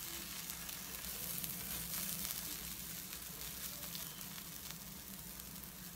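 Chia pancakes sizzle steadily in a frying pan, a soft, even frying hiss with faint crackles and no talk over it.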